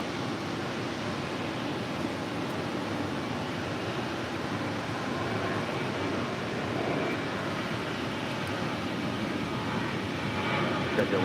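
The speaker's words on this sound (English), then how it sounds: "777-300ER now short final for 24 left." A Boeing 777-300ER on short final into LAX, a steady broadband jet roar that holds loud and even throughout, with slight swelling near the end.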